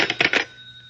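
An old telephone bell rings in short bursts, about three quick rattling trills, close and clear, followed by a fading hum.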